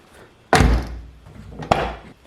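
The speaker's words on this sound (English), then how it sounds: "it seems like the door doesn't want to close with the same amount of force as before" A Mazda Miata NA/NB car door fitted with Delrin bushings closes twice, first with a solid thunk, then a second, slightly sharper slam with a short rumbling decay, recorded close by.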